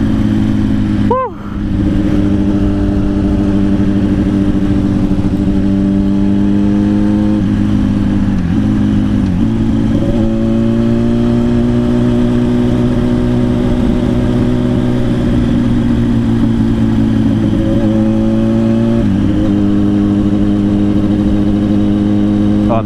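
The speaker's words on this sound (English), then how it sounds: "So this one's got a Tomagoni exhaust on it as well, which is loud." A Yamaha demo motorcycle fitted with a loud Tomagoni exhaust drones steadily up close, with the engine note climbing and dropping through gear changes under constant wind rush.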